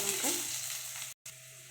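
Dried red chillies sizzle in hot oil, a brief burst of bright, close crackling hiss that cuts out abruptly for a moment, then resumes.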